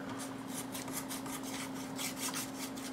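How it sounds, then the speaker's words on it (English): Sandpaper rubbed by hand against an airsoft AEG hop-up rubber, a steady rhythmic rasping stroke after stroke, close up under a constant low electrical hum, with no talking. "take a strip of sandpaper and just start"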